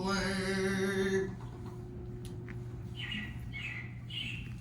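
Animatronic robins chirping in Disney's Carousel of Progress show at Magic Kingdom, a series of short bright tweets after a sung melody fades, moderately close and repeated several times.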